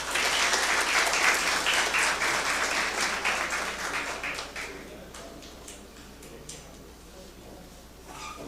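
Audience applause at a tribute ceremony in Goiana, loud at first with dense clapping, then thinning and fading to scattered claps after about five seconds.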